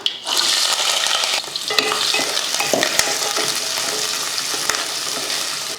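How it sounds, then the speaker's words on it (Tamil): Fenugreek, cumin, curry leaves, garlic, shallots and onions sizzle loudly in hot oil, crackling steadily while a spoon stirs and scrapes against the pan with occasional sharp taps. "கொஞ்சமாக வெந்தயம் சீரகம் இந்த மூணுமே போட்டு தாளிக்கணும்"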